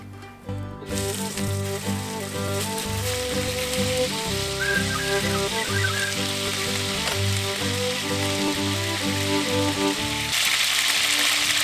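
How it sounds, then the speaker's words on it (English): Meat browning in olive oil in a pan, a steady close sizzle and crackle that runs continuously, growing a touch brighter toward the end, with no talking. "Got a little olive oil in the pan, and we're just gonna brown up our meat."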